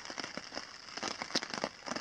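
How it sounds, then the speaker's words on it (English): Light rain pattering at a lakeside campsite in the Boundary Waters wilderness, faint and close, with scattered soft drops and crackles and no talk. "Rain has let off a little bit for the moment."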